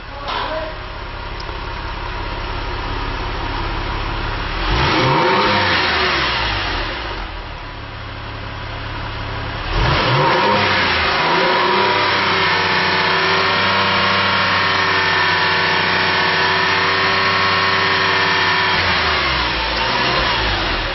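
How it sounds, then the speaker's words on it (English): A Porsche 911 (996) Carrera 4 sports exhaust idles with a low rumble, then revs sharply twice, each blip rising and falling before settling into a loud, steady drone. "Jan's going to give it a few blips to see the actual sound of the exhaust"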